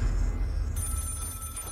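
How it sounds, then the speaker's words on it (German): A telephone rings in a horror video game, a short electronic bell tone sounding over a low dark ambient drone, moderately quiet and alone without talk. "Natürlich, ein Telefon."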